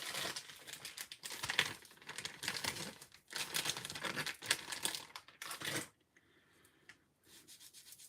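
A wet wipe is pulled from a crinkly packet, with bursts of close plastic crinkling and rustling across several seconds, then a brief near-silent gap before softer handling resumes.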